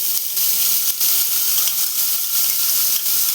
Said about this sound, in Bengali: এটাকে এখন ভালো মতো ভেজে নেব।